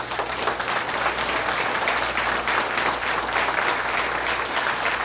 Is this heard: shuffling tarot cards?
no